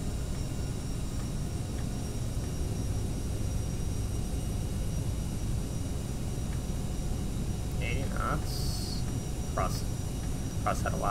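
Airliner jet engines spooling to takeoff thrust in a Prepar3d flight simulator, a steady broadband roar holding level throughout, with a few faint clicks and cockpit sounds near the end.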